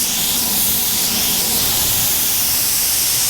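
A spray gun laying Peterbilt primer onto a Jeep gives a loud, steady, close hiss of atomized spray that holds without a break for the whole stretch.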